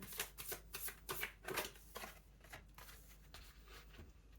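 Rapid riffling of playing cards being shuffled, a series of crisp papery bursts repeating several times up close, no talking.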